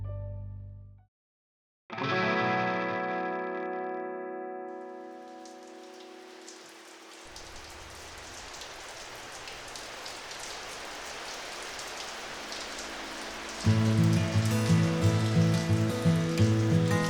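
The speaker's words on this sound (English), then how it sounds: "Seven months later, it's raining." Steady rain patters on a surface after a brief tonal intro, continuing as a constant hiss with some musical tones rising near the end.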